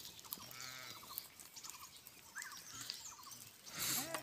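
A flock of sheep and goats being sorted outdoors bleats from a distance, several faint wavering calls spread across the stretch, with light bird chirps and a louder rustle near the end.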